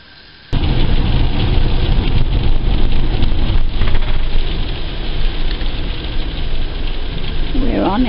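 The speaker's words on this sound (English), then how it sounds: "and it's raining" Rain falls steadily at a coastal farmland stop during a New Zealand campervan trip, a constant loud hiss that starts abruptly and runs on, mixed with low engine and wind rumble.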